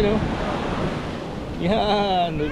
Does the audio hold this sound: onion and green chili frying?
no